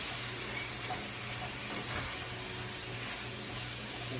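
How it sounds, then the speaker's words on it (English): Garlic sizzles in a hot pan on high heat for stroganoff, a steady close crackling hiss with no talking. "you can hear the sizzle's gone off a little bit"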